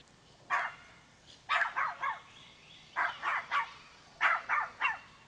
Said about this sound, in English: Video footage of a dog.